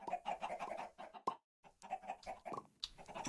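Video game chickens cluck in quick repeated bursts, close and fairly loud, with a short silent gap partway through and no speech.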